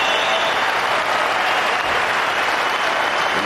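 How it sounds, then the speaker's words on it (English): A crowd at the 2017 German Open table tennis match applauds and cheers, a loud, dense and continuous wash of clapping that holds steady throughout. "And the crowd going quite crazy here."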